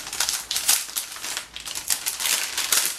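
Someone opens a package holding a pouch, making close, continuous crinkling and rustling of packaging in several bursts, with no talk.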